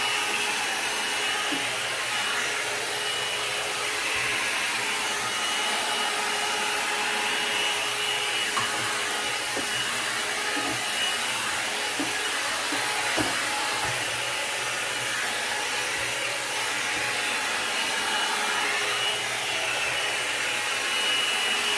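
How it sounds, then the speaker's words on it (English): A brush-style hair dryer blow-dries a section of hair, giving off a steady, loud broadband whoosh with a constant motor hum that runs unbroken throughout, with faint brushing ticks and no talking. "So this is the blow dry starting brush"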